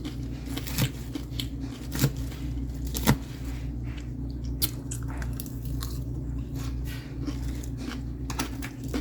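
Someone eating salty food at a late lunch, with a few crisp bites at separate moments over a steady low hum and soft chewing.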